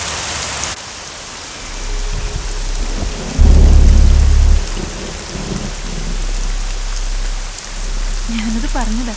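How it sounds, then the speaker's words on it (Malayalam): Thunder rolls through a heavy downpour, a deep rumble swelling loudly for about a second amid the constant hiss of rain on surfaces, followed by a brief voice near the end. "നന്നായിട്ട് ഇടിയും വെട്ടുന്നുണ്ട്"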